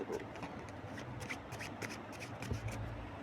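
A deck of cards being shuffled and handled, giving close, papery riffling and rubbing bursts that run steadily throughout, with a soft low thump near the end and no talking.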